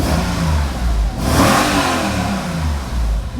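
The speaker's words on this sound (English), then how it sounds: "This one sounds pretty healthy. Let's hear it rev." A Mercedes SL55 AMG V8 revs close by, the engine rising sharply from a deep idle to a roaring peak and then dropping back to a rumbling idle.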